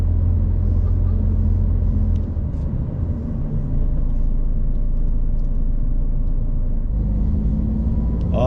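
A truck engine rumbles steadily at low pitch while driving away from a depot, a continuous close drone with a brief dip in tone midway before the heavier rumble resumes.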